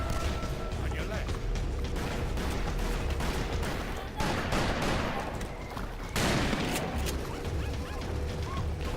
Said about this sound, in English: I was wrong about the volcano gun